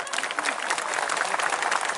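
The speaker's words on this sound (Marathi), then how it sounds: "जोरदार वाजवा टाळ्या" An audience at a health talk breaks into dense, sustained applause, many hands clapping together at an even level from start to finish.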